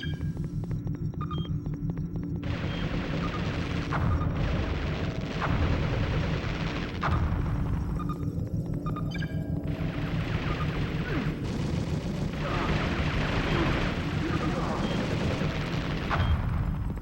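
Gunfire in the PS1 game C-12: Final Resistance, repeated shots and bursts over a constant low throbbing hum.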